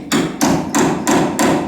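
A hammer drives a hinge pin into a brass-bushed door hinge on a 1973-1987 Chevy truck, giving five evenly spaced, sharp metallic taps, close and loud, with no voices.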